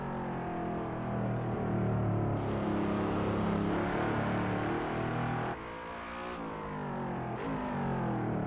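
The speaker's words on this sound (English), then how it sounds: "Yes, Ragnarok, the AMG engine, it's not the most melodious thing in the world" A Mercedes AMG race car's engine in the Assetto Corsa racing game, loud and continuous with rising revs and a sharp drop around a gear change, alone without talk.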